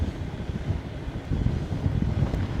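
Wind roars and buffets across an open stretch during an electric bike ride, a steady low rumbling rush with gusty swells, loud and continuous with no voices.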